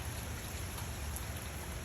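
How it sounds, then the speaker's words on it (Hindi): Heavy rain falls in a dense, continuous hiss with no pauses or voices. "काफी शदीद बारिश हो रही है।"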